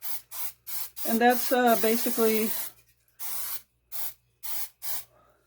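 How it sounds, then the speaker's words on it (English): Crisco butter nonstick cooking spray hisses onto a pan in several short, sharp bursts before and after a stretch of talking, greasing it for a Pillsbury pizza crust. "since I got this Crisco butter nonstick spray"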